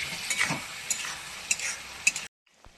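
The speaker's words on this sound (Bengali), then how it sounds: "এই যে ভেন্ডিগুলো একে একে দিয়ে দেবো। একটু কষাতে থাকি" Okra stir-fried in a pan, a close sizzle with several clinking spatula strokes against the metal that stops abruptly near the end, leaving near silence with no voices.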